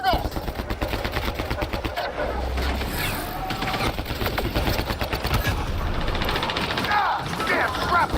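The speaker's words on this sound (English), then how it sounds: "Just keep firing!" Rapid automatic gunfire crackles in dense, sustained bursts during a combat firefight in the video game Mass Effect Andromeda, loud and continuous with scattered voices and effects mixed in.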